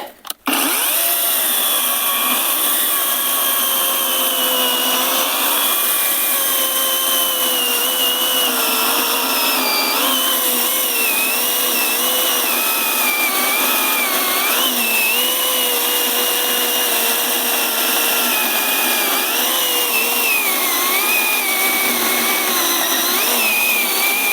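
Procraft PCA42/2 cordless battery chainsaw cutting through a thick firewood log, a loud continuous high-pitched whine of chain and motor held steady for over twenty seconds with small shifts in pitch as it bites into the wood.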